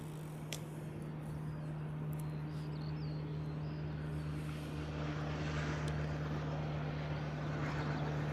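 Steady jet engine drone of a Boeing 737 MAX 8 on approach to land at Honolulu, a continuous distant roar with a strong low hum, heard alone with no talk.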